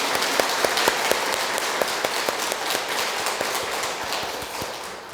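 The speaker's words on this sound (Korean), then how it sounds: "박수 한번" Audience applause closing the final session of a Korean Catholic Jubilee lecture series, a steady wash of many hands clapping with sharp individual claps popping out, sustained for several seconds and fading slightly toward the end.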